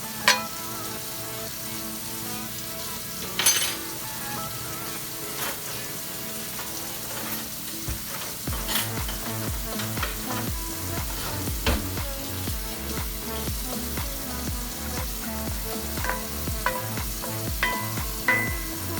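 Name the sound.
eggs frying in a cast iron skillet, stirred with wooden spoon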